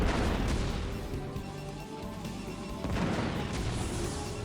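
Spider mines detonate on probes in StarCraft Brood War, a dense run of overlapping booms and crunching blasts, loud and continuous, with a sharp hit near the end, no speech.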